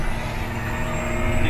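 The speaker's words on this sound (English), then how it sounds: "You can hear the motor's in a good spot with the RPM" A vehicle engine, just downshifted to second gear, holds a steady low droning rev close by, with a faint high tonal whine above it.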